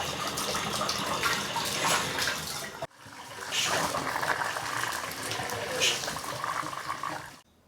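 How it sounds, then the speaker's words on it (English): Water runs from a bathroom faucet in an off-grid yurt with new indoor plumbing, a steady broadband rush that stops briefly near three seconds and then resumes. People talk faintly underneath. "I'm getting ready to try both bathroom faucets."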